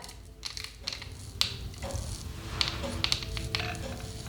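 Close-up scratchy rasps of a razor on facial hair, several short crisp strokes at an uneven pace, fairly quiet, with no talking.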